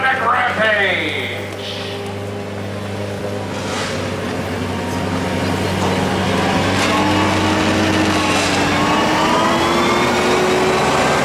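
Modified 1,200-pound lawn tractors race, their engines a loud, steady buzzing drone with rising and falling pitch as they pass, over an outdoor crowd and announcer.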